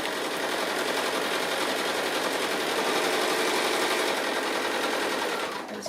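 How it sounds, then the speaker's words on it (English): A sewing machine runs steadily doing straight line quilting on a fabric strip placemat, a fast continuous mechanical whir and rattle, close and even for several seconds before stopping, with no talking. "I'm just on the last of the straight line quilting that I'm doing"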